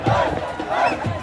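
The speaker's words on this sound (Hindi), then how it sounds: "भीड़ लगी हुई है अभी फिलहाल टाइम 11:30 हो रहा है यहाँ पे और भीड़ है" Crowd of cricket fans gathered outside the MCG stadium in Melbourne after an India v Pakistan T20 World Cup match, a dense roar of overlapping shouts and chanting at night, loud and close.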